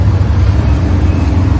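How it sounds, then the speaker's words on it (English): Steady low rumble of road traffic on the main street beside the Galveston seawall, a continuous loud drone of passing vehicles with no distinct pass-bys standing out. "this is the main street. So you can see all the traffic going up and down."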